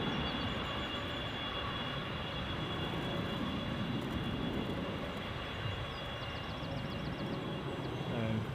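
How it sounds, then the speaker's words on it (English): A United airliner departs Edinburgh Airport, its engines making a steady, broad roar that stays loud and even throughout, with faint wind-like noise mixed in. "So this will be our first United departure of the day"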